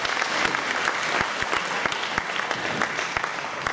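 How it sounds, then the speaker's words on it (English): An audience at an annual function applauds the children, steady dense clapping from a crowd filling the room, moderately loud and continuous throughout. "Let's give another round of applause to the children"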